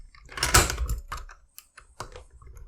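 An SC1 key scrapes and clicks as it is pushed into the keyhole of an Elemake MKDZG1A lock, a short close metallic rattle with a burst of scraping followed by a few lighter clicks.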